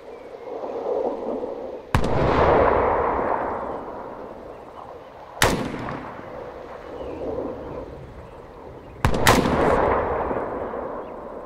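Gunfire in Arma 3: three loud, sharp shots spaced a few seconds apart, each followed by a long rolling echo across open terrain, with no talk over them.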